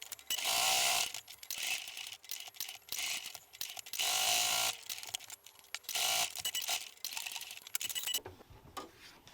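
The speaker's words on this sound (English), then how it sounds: "I'll stitch all the way around the 4 sides" Sewing machine stitching around the four sides of a small fabric sticky note holder, running in bursts of rapid mechanical chatter separated by short pauses, close and fairly loud, with no talking.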